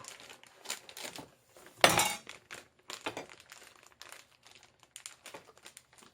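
A plastic zipper freezer bag of 500 g of bamboo shoots crinkles as air is pressed out, with scattered rustles and one louder crackling burst partway through.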